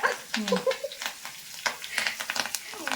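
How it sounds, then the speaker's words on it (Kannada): Crackling and sputtering of curry leaves frying in hot oil for tempering, with sharp pops scattered irregularly over a few seconds. "ಈಗ ಕರಿಬೇವು ಚಟಪಟ"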